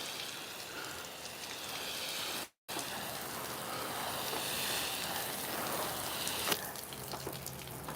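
Slow, steady rain patters on a roof being softwashed on a rainy day, a continuous dense hiss with a brief dropout and a louder drip near the end.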